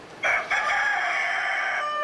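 Rooster crowing at a Shell gas station pump in Madison, a single long, sustained crow, fairly close and clear, with no talking.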